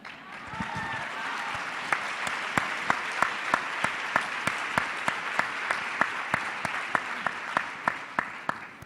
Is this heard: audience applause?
yes